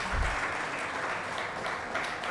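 Audience at an open mic awards event clapping for poets, a brief steady burst of applause.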